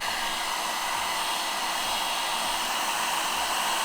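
A heat gun blows steadily and continuously at close range while softening the glue along the edges and corners of a car headlight, a loud, even airy roar with no talk.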